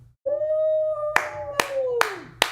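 A podcast host and guests clap to welcome a guest: four sharp, separate claps, spaced about half a second apart. A long, sliding, tonal whine comes before them and runs underneath.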